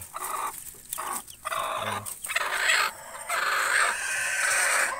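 Newly hatched chicks and chickens in a brooder, a busy mix of high chirps and clucks, close and continuous, with no talking.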